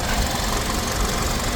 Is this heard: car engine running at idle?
yes